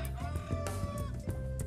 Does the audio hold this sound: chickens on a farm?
yes